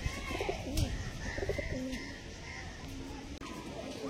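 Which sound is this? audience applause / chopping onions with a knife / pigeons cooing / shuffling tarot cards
pigeons cooing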